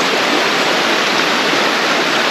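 River water rushes steadily at a campsite, a dense, continuous broadband roar with no pauses, close and fairly loud, heard alone without voices.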